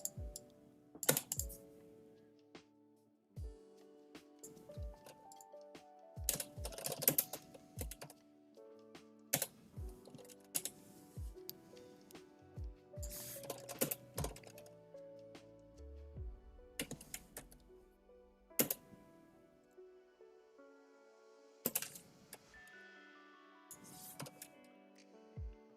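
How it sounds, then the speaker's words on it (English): Someone types on a computer keyboard during a game development session, giving irregular bursts of close, crisp key clicks and clacks with short pauses in between. The sound is quiet and steady, with no talking. "I'm just typing random shit right now."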